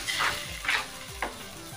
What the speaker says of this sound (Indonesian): Tumis bumbunya yang sudah di blender